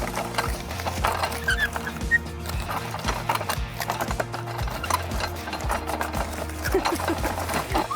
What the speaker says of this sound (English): I'll take this apple, toss it in here, and the press will grind it up.